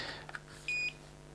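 A lipo voltage alarm on a Kraton RC car gives one short, clear, high-pitched electronic beep against quiet background hum.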